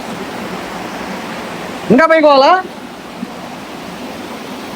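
Devarakona waterfall roars as a steady, loud wash of broadband rushing water filling the whole scene, with a person briefly speaking over it midway.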